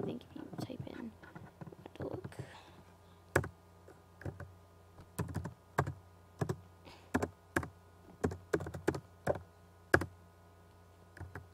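Someone types a search on a computer keyboard, with a series of sharp, separate key clicks spaced irregularly, close and clear, after a stretch of soft speech at the start.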